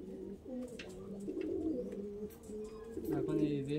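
A Madras pigeon, a male with green eyes, gives repeated low throaty coos in rolling phrases, close and clear over faint background noise.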